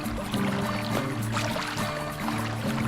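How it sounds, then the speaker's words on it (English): Water laps and swishes against a kayak being paddled hard upstream against the current on Buffalo Creek, a steady close watery rush with rhythmic paddle-stroke surges. "As you can hear the water up against the boat."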